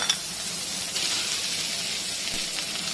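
Grated garlic sizzling in a hot pan for curry over a low to medium flame, a steady close hiss of frying with faint stirring and no talk.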